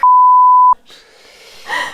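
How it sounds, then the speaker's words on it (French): A censorship bleep added in editing sounds as a single loud steady electronic tone of about three-quarters of a second, followed by faint breathy room sound and a rustle. "je mets bip à chaque fois"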